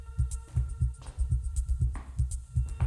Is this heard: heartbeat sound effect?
yes